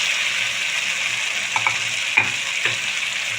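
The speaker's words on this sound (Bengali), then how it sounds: "আলুটা দিয়ে আমি একটু কষিয়ে নেব" Fried potatoes stirred into masala that is releasing its oil, for Bengali katla fish curry: a constant bright sizzle with a few scraping spatula strokes, close up and with no talking.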